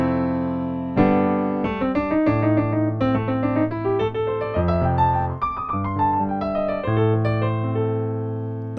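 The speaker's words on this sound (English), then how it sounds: "So I will apply the blues scale for A." A blues scale in A played over a 4-5-6 progression on a keyboard: a flowing line of clear melodic notes over sustained low chords, loud and close, with no talking.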